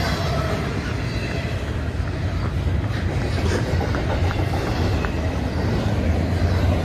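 A CSX intermodal freight train rolls past close by, making a loud, continuous rumble with rhythmic clickety-clack from its wheels over the rails, heard alone without talk.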